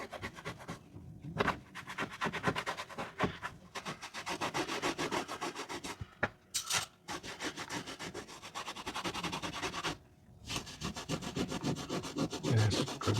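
Steady rubbing scrub across a Sprinter campervan roof cleaned with window cleaner, a continuous abrasive swishing at moderate level with a few brief pauses between strokes.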